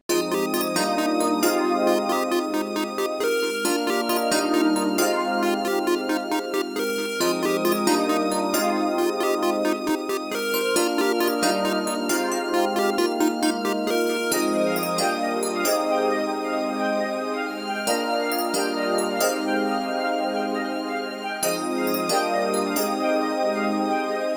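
A beat loop built on the Xenology Chamber Woods arp preset with added reverb plays continuously, a bright repeating arpeggiated pattern over sustained tones, steady and loud throughout with an airy, ambient wash and no talking.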